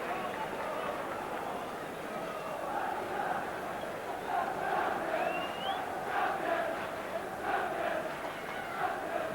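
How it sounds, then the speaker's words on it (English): Liverpool football supporters at an away match against Birmingham City chant and shout from the stands, a steady distant roar of crowd voices with a whistle-like call rising midway, heard without nearby talk. "some of the Liverpool crowd here shouting champions"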